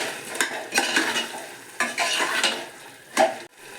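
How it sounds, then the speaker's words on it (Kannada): Rice being stirred in hot oil in a cooking pan, scraping spoon strokes in uneven bursts over a soft sizzle, close and fairly loud with no talk. "ಚೆನ್ನಾಗಿ ಅಕ್ಕಿನ ಮಿಕ್ಸ್ ಮಾಡಿಬಿಟ್ಟು"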